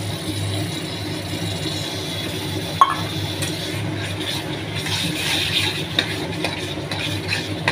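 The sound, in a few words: hung curd added to frying masala, stirred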